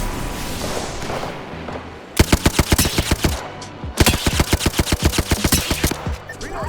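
Prowler gunfire in the Apex Legends video game, loud close bursts of rapid shots in two strings with a brief pause between them, set against a background of game noise.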